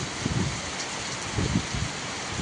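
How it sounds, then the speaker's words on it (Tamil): Heavy rain pours steadily near the Kamarajar bridge in Cholavandan, Madurai, with water running along the road, a dense continuous hiss and low wash throughout, loud and close with no voices. "சோழவந்தான் காமராஜர் பாலம் அருகே பலத்த மழை பெய்து சாலையில் நீர் பெருக்கெடுத்து ஓடியது"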